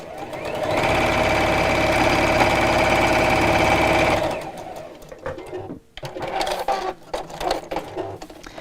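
A sewing machine stitches a zipped fabric pouch in a steady, fast, continuous whir for about four seconds, then stops, followed by softer handling and rustling sounds.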